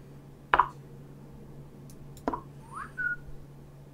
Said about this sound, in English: That wasn't me whistling.